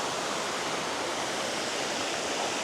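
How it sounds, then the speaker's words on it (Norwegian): Waterfalls pouring down steep Norwegian mountainsides produce a dense, steady rushing roar of falling water, continuous and unbroken, with no voices over it. "så det er mange fosser som renner ned fra nesten overalt"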